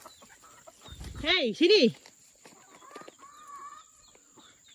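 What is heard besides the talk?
chickens clucking while following along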